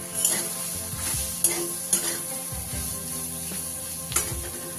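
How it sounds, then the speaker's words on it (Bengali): Green pea paste hits hot oil tempered with cumin in a pan, giving a steady sizzle with several scraping stirs of a spoon at irregular intervals, close and moderately loud. "এবার এর মধ্যে পেস্ট করে রাখা মটরশুঁটিটা দিয়ে দিলাম।"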